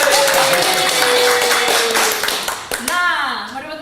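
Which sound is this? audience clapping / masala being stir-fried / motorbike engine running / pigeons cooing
audience clapping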